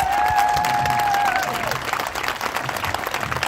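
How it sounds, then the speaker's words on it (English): An audience at a Cayuga County gathering claps loudly for itself, dense applause that thins slightly after the first second or so, with a faint tone trailing at the start. "Give yourselves a round of applause."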